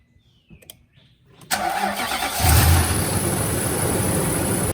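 A Nissan Armada's 5.6 liter V8 cranks briefly after a few clicks, then catches and settles into a loud, steady idle close by.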